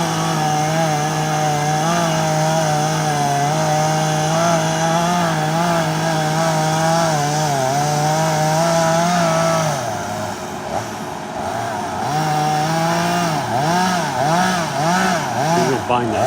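A chainsaw cuts into a cedar tree near power lines, its loud engine holding a steady high-revving drone, then dipping and surging in pitch as the blade bogs and frees in the wood.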